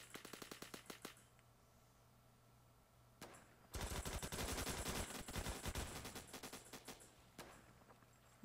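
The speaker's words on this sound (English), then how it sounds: "That shotgun's powerful." Rapid bursts of shotgun and automatic gunfire in the Roblox shooter Phantom Forces, loud and dense through the middle with scattered shots before and after.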